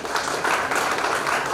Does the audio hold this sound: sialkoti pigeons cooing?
no